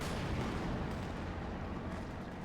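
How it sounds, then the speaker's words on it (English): A Panzer IV tank opens fire in a World War II battle game, a loud, continuous heavy rumble of cannon blasts and battle noise rolling on without pause, close and dense, with no talking. "And cue the tank opening fire."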